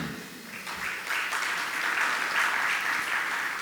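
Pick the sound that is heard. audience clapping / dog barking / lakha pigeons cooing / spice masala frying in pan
audience clapping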